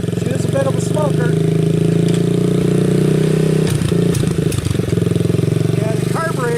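Kawasaki KLT 110 three-wheeler engine running and smoking heavily with a carburetor in need of work, a loud steady idle with throttle blips and a brief stumble midway, close to the listener.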